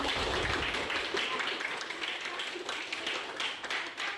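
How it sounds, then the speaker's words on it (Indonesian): A standing class claps for their teacher during an ice-breaking activity, a quick, fairly faint patter of hands that holds for a few seconds with soft voices underneath. "tepuk tangan dulu untuk"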